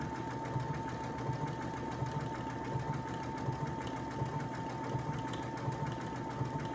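A Brother Essence VM5200 sewing machine works an applique stitch with a steady, close whir, its needle rhythm beating evenly throughout and no voices.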